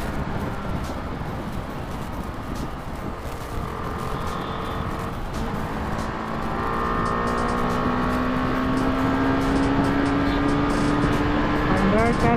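BMW G310R motorcycle accelerating on a highway: the engine drone climbs steadily in pitch and grows louder through the second half, under constant wind and road roar.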